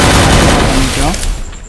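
MP5 submachine gun firing in a video game, a loud, dense burst of rapid shots at close range that fades out over about a second, with a voice briefly heard beneath it.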